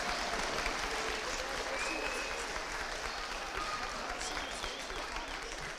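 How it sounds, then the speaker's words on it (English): An audience at a school beginning band concert claps for student medal recipients, a dense, sustained round of applause holding steady throughout, with a few voices faintly mixed in. "One more round of applause for them as they are seated."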